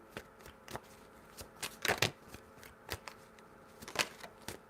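Tarot cards shuffled by hand in a reading, a series of quick soft riffling and slapping bursts, close and fairly quiet, with a few louder flurries and no talk.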